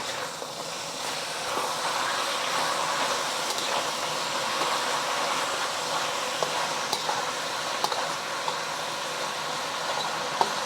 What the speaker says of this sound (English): We're going to sear that for about a minute or so before moving it around.